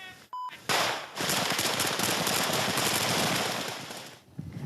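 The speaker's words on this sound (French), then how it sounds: "Les tirs sont nourris," Heavy combat gunfire in a village on the outskirts of Kyiv: a brief beep, then a dense, sustained roar of rapid automatic fire lasting several seconds before tapering off, loud and fairly close.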